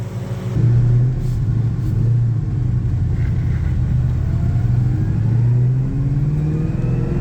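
A 2003 Mustang SVT Cobra with a fully custom exhaust accelerating hard, a loud, continuous, close rumbling roar that climbs steadily in pitch through the gears with no talking.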